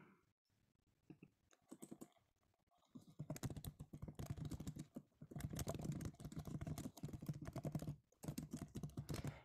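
Rapid clattering keystrokes on a computer keyboard, starting sparse and quiet, then becoming dense, continuous typing in bursts with short pauses.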